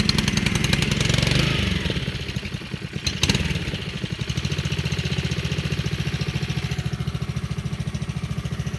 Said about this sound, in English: This thing idles like a beauty